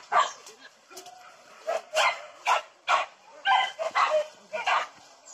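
Hunting dogs bark during a pig hunt in Birah, Bukik Kanduang, West Sumatra, giving a run of sharp, repeated yaps and barks at moderate distance, with some voices faintly mixed in.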